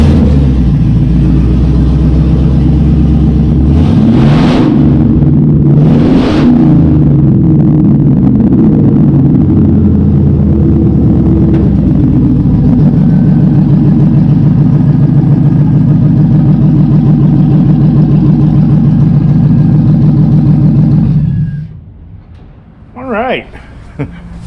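A 1969 Chevy C10 engine cranks, then runs steadily at a loud, close idle with a couple of revs early on before shutting off near the end.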